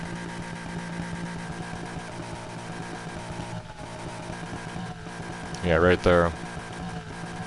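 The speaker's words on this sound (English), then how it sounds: "I'll keep the overrun in the middle. The popping noise there." Need for Speed Heat car engine exhaust with adjustable overrun popping, droning steadily throughout, rising briefly into a louder rev near the end, with a voice speaking over it.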